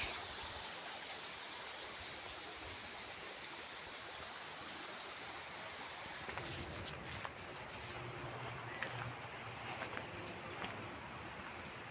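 A riverside stream flows past a garden in a soft, continuous wash, faint and steady, with a few brief bird calls and small sounds near the end.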